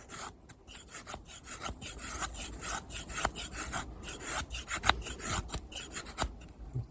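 An Opinel No. 8 carbon steel knife with its factory edge shaves feathersticks from wood, a quick run of close, dry rasping strokes in an uneven rhythm, with no talk.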